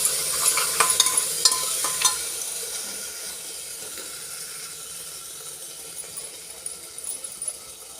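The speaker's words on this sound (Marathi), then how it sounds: "हे बघा, तिला पण छान फ्राय करून घेते." Ground spice mix frying in a pan for egg biryani gives a steady close sizzle and hiss, with a few stirring scrapes early that settle into a quieter, even fry.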